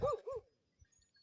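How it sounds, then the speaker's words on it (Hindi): A dog a fair distance away along a street gives two quick barks in a row, then falls quiet apart from faint low thumps. "तो ये मुझे भौंक रहा है।"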